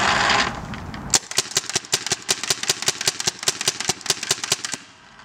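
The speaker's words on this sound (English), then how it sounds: "we do always wear your safety goggles when you're shooting these paintballs" A paintball gun fitted with a box magazine fires a rapid, fairly regular string of about twenty sharp pops after a brief loud rush of air. The shots are close and crisp and the string cuts off cleanly.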